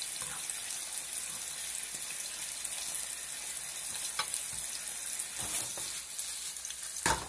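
Onion rings fry in a pan for a gizzard salad, a quiet continuous sizzle with occasional stirring scrapes and clinks toward the end, no talking.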